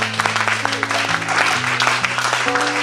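A church congregation applauds and acclaims the Lord with steady, lively clapping over sustained organ or keyboard chords. The sound is loud and continuous with no break.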